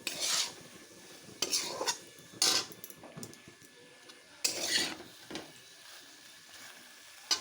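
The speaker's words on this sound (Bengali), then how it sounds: "এই যে সোয়াবিন বানাচ্ছি লাল লাল করে, সোয়াবিন বানাচ্ছি" Soybean chunks stirred and fried in a pan at home, a few scraping strokes of a utensil with soft sizzling between them, close and fairly quiet.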